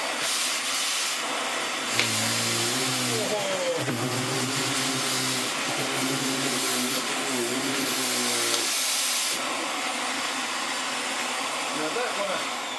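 A refurbished Vax Air upright vacuum cleaner runs with a loud, steady motor whine and airflow roar, its pitch wavering as it moves across the floor and briefly easing before rising again.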